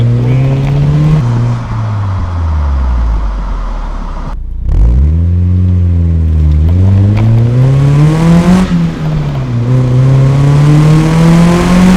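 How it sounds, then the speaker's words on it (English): Mazda Miata NB exhaust while driving, with a close, loud engine drone that climbs and falls through several rev sweeps, a short dip near the middle as the throttle briefly lifts, then steady cruising tone. "So I hope that gives you a pretty good idea of how the exhaust sounds"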